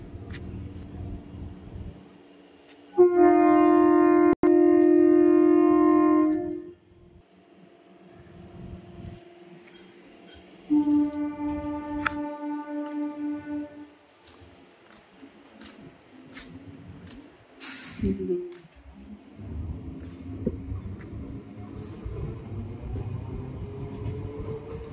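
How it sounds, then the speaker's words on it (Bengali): A train running from Murshidabad to Azimganj sounds a long loud horn blast, then a second shorter one, followed by a quieter rumble and rattle of the carriages rolling past. "এটা মুর্শিদাবাদ থেকে আজিমগঞ্জ যাচ্ছে ট্রেনটা।"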